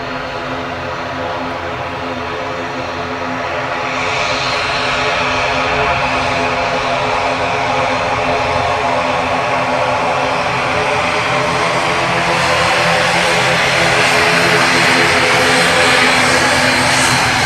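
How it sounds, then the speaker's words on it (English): An eight-year-old ATR 72-600 turboprop airliner takes off from Dublin Airport on runway 10R, its propeller drone swelling from a steady hum into a loud, sustained roar with tonal whine, close and continuous with no talk. "ATR 72600 off to Glasgow, EIGPP, 8-year-old aircraft."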